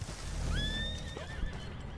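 A video game horse whinnies loudly with a rising then falling cry, over a dense rumbling background and faint hoofbeats.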